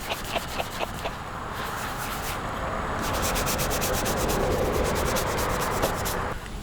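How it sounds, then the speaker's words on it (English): Car body filler is hand sanded with 1500 grit sandpaper during rust repair, a continuous close rasping scrub in steady back-and-forth strokes that grows slightly louder midway. "sand that down. Use my 1500 grit"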